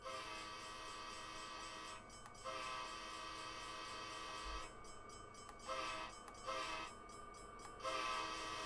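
An Amtrak passenger train sounding its horn at whistle signs: repeated long and short blasts over the steady hum and rattle of the train heard from on board, fairly faint.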